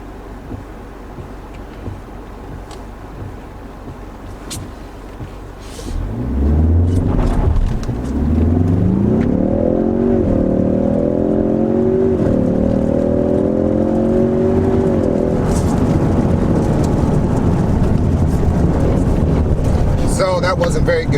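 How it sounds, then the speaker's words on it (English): A 2018 Ford Mustang EcoBoost convertible launches hard from rest toward 60 mph, its engine note surging loud and climbing through rising revs with wheel spin, wind buffeting the microphone throughout. "let's get this started with a little 0 to 60."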